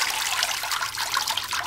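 Water trickles and splashes into the cups of a DIY hydroponic system holding rose cuttings, a steady close bubbling dribble with a continuous liquid patter and no speech.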